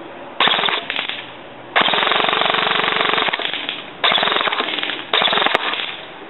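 Custom G&G airsoft rifle fitted with a Madbull-type barrel and concave spacer firing four rapid full-auto bursts, a loud mechanical rattle of shots separated by short silent gaps.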